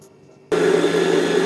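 A blender switches on suddenly after a quiet start and whirs loudly and steadily, whipping a food mixture with a few spoonfuls of oil for a sugar-free treat; no talking.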